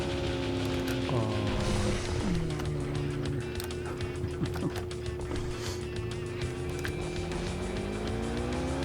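Engines drone and whine steadily in a retro PC racing game, pitch sliding up and down through gear changes, with a brief tire squeal, continuous and fairly loud.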